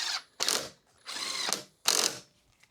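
Hex screws are driven into the protector bracket of an Inmotion V9 electric unicycle with a 4 mm tool, giving three close, brisk bursts of ratcheting clicks separated by short pauses.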